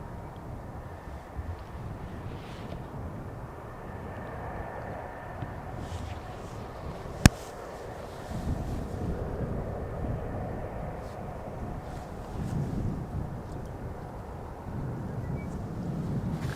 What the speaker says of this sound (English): After the A319 from EasyJet coming in from Edinburgh